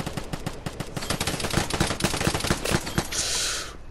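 Rapid gunfire rattles in the video game Vigor, a dense string of sharp automatic shots in quick succession, loud and close, ending in a brief whooshing tail.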